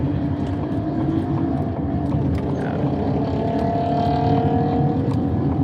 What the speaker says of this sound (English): His car sounds like a lawnmower.